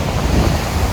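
Rough, churning ocean surf pounds a windy Dominican Republic beach, a loud continuous roar of breaking waves mixed with heavy wind buffeting the microphone.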